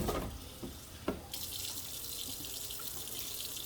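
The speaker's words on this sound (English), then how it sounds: "then we will dump her brown water, if you can see how little brown that is" Dirty water is poured out of a guinea pig's small bath tub, a steady rushing splash that starts after a few soft knocks and runs on continuously, close and moderately loud.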